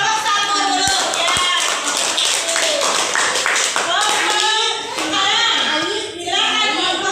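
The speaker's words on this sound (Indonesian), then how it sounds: "Coba tepuk tangan dulu untuk kelompok satu dulu ya." Group one in a classroom gets a round of applause, with dense, steady clapping from many hands running throughout under children's chatter and voices.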